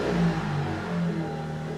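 Car engine starting and revving after an oil change during seasonal maintenance, a steady mid-low engine drone with a brief rise in revs near the start, heard close and alone.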